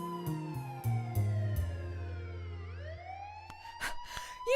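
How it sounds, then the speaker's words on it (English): Police car sirens wail in a rising and falling tone, with tonal sweeps gliding up and down and a few sharp clicks and knocks near the end, no voices present. "That's when the sirens of police cars were heard."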